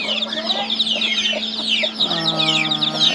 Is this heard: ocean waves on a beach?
no